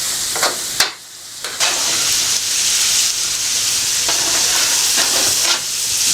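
Onion frying in a pan for a Brazilian-inspired beef and spaghetti dish: a steady, loud broadband sizzle with several sharp scraping stir strokes and brief dips, close and continuous throughout.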